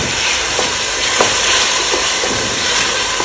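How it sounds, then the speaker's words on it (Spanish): Steady, loud sizzling of tomato frying in a hot pan, with a few faint clicks and stirs over the continuous hiss. "Voy a echarle el tomate porque quiero que el tomate se vaya friendo."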